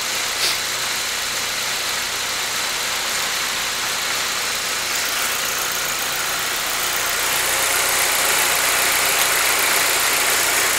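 A 2008 Saab 9-3 with the 2.0T engine, which has a random misfire, idles steadily in an even, unbroken mechanical hum at close range, with no voices.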